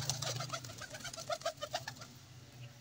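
A golden female pigeon coos in a soft, repeated series of throaty calls, fairly close and alone with no talking.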